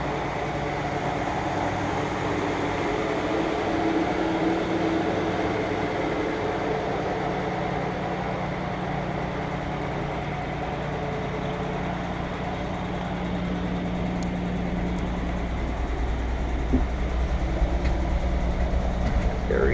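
A 1952 Dodge pilot house truck engine runs at hot idle, a steady low rumble with a constant drone, close and unchanging.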